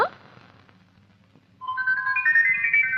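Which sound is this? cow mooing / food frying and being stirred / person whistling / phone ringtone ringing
phone ringtone ringing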